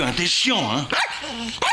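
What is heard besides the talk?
dog barking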